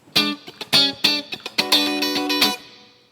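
Funky, choppy electric guitar chords through a NativeAudio Ghost Ridge reverb pedal strike in short rhythmic stabs, each ringing with a light reverb tail that fades briefly after the last chord.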